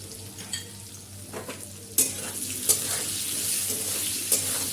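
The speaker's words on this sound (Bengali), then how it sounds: "আলুটা ভালো করে লাল লাল করে ভেজে দেবো" Potatoes frying in a pan with salt and turmeric, giving a steady hissing sizzle with sharp spoon scrapes and clinks every second or so, close and fairly loud, with no voices.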